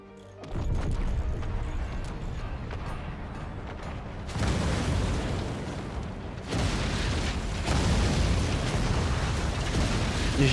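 Rapid chain of explosions and crashing destruction as a fort is blown apart in the strategy game Forts, a dense, loud roaring barrage with overlapping booms swelling in several waves, no voices.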